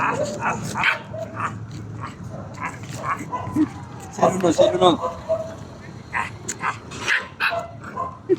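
A dog barks and yips in short bursts amid people talking nearby, the barks mixing with voices throughout.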